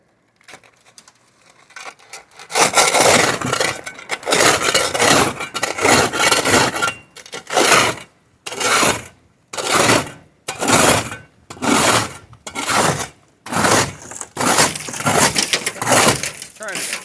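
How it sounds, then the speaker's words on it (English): Ice being scraped off the roof light of a box van in freezing weather, heard as loud, repeated rasping strokes in rhythmic bursts with short pauses between them, close by and alone. "Trying to scrape some of this away so the light comes through."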